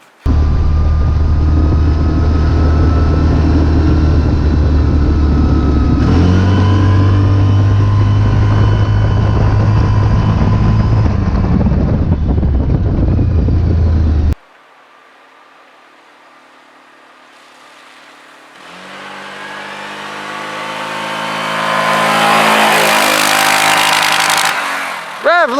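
A stock 2009 Yamaha Rhino 700 UTV engine drones loud and steady at full throttle. It cuts abruptly, then a rising whine climbs back up to a high, strained pitch.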